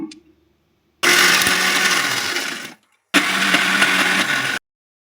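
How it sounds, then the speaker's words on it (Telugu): A mixer grinder whirs loudly while grinding nalleru chutney with salt, running in two bursts that are separated by a short pause, with no talk over it. "ఇప్పుడైతే పచ్చడిని నేనైతే గ్రైండ్ చేసుకుంటున్నాను"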